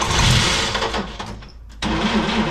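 A classic Chevy engine cranks loudly, stumbles and nearly dies for a moment, then catches and fires back up into a steady running rumble close by.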